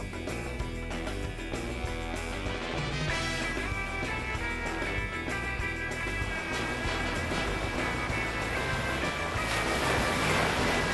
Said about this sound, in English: Norman greeted the Pacific Ocean like an old pro, riding the waves